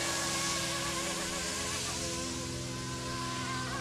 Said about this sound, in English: Yeah, it's a honey bee.